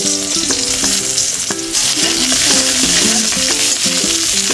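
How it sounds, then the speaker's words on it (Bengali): Plain eggplant slices fry in hot oil, giving a steady, close sizzle with soft bubbling and occasional clinks and pops throughout, with no talking. "বেগুন আমার ভাজা হয়ে গেছে"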